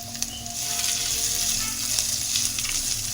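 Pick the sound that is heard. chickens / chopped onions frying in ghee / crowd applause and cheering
chopped onions frying in ghee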